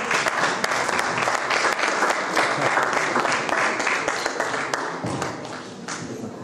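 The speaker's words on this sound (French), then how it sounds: "Est-ce qu'on peut l'applaudir aussi, s'il vous plaît?" A church congregation at a special Christmas Eve Sunday service claps for a performer, with sharp individual claps standing out over continuous applause that holds steady and then tapers slightly near the end.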